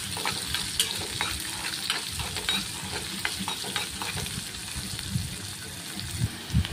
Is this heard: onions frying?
yes